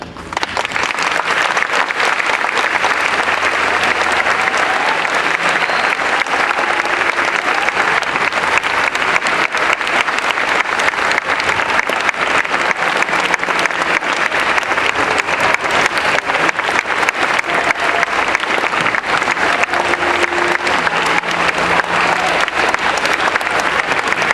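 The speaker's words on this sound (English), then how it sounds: "one more time, louder, louder, louder, round of applause." Loud, sustained applause from a large audience fills the whole stretch, dense and unbroken without any speech.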